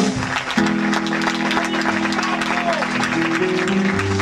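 Steady crowd applause for a performer at a live concert, dense clapping blended with sustained droning musical tones, loud and close throughout.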